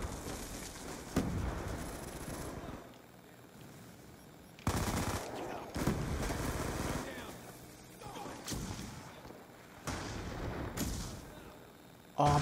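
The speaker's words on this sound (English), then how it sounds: "Friendly Hellstorm missile inbound." Bursts of heavy explosions and rapid gunfire from a Hellstorm missile strike in Black Ops 2, several loud blasts in uneven clusters over about twelve seconds with game noise between them.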